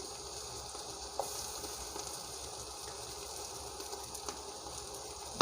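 Onions frying in a pan with ginger garlic paste, a faint, steady sizzle with a few soft clicks of a spoon.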